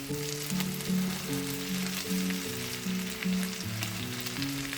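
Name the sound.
fresh spinach stirred into sizzling sauce for salmon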